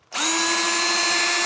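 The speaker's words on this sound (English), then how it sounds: "drill a hole big enough for that power cord to go into." A power drill bores a hole through a shed panel, spinning up abruptly into a loud, steady high whine that holds without letting up.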